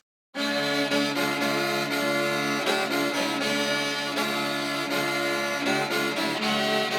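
A big bass tagelharpa is bowed in a steady repeating rhythm, its droning tone close and full, each stroke marked by a soft pulse of attack.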